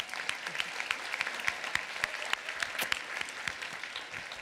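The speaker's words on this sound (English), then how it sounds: "Can we get another round of applause?" An audience at a university leadership lecture gives a round of applause, a dense, steady patter of many hands clapping at moderate distance throughout.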